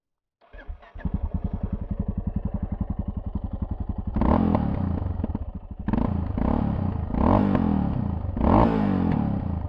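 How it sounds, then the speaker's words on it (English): A Yamaha XT660X motorcycle idles with a fast, loud thumping exhaust pulse, then revs hard in several surging bursts close to the microphone, each swelling and dropping back, with no speech. "you see these beautiful exhausts that you will hear. It makes an awesome"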